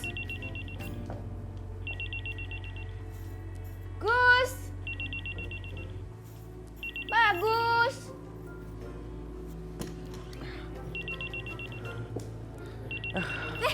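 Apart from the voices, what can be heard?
mobile phone ringing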